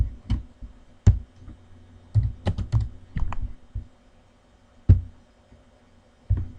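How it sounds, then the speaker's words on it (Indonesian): Keys clicking on a computer keyboard, a few quick, close taps in small bursts with short pauses between them, as a key combination is pressed in a spreadsheet program. "CTRL ditekan, tidak dilepas, lalu angka 1"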